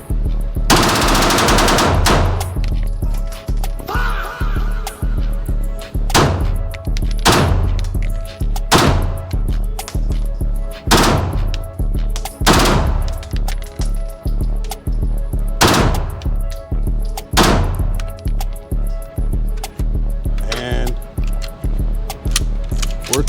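A suppressed Glock pistol fires at a shooting range in loud, sharp shots, some spaced and some in quick strings, with the clack of the slide after each.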